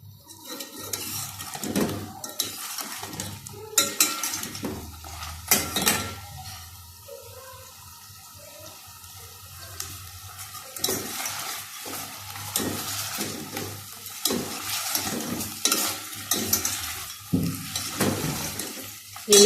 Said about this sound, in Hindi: अब मैं इसको ज़रा सा भून लूँगी इसके साथ ही